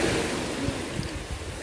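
Sea waves wash steadily on the Dagestan coast, a close, loud, continuous surf with wind buffeting the microphone, no voices.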